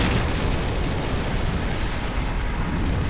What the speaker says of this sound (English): Why is there still explosions everywhere?